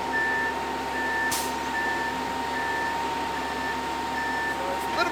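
Concrete truck backing up during a nighttime pour for a basketball court, its reversing alarm beeping in a steady, evenly spaced series over a continuous diesel engine rumble.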